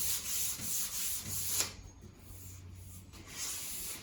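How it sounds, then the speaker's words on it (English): Hand sanding a wipe-on polyurethane finish on furniture with 600 grit sandpaper gives a soft, steady close-up rubbing hiss, with a brief pause partway before the strokes resume. "So with this being only 600 grit, it's not going to take much of your coating off."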